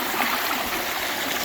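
Creek water flows steadily on the Ozark Highlands Trail as a hiker crosses, a close, continuous broadband rush without pause.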